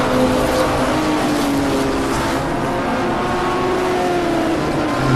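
A BMW race car at a national racing series circuit drives into a turn, its engine a loud, sustained close roar with shifting pitch throughout.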